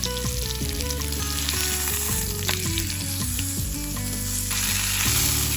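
Beef searing in hot oil in a pan for roast beef, a loud, dense, continuous sizzle heard close up for several seconds, with no talking.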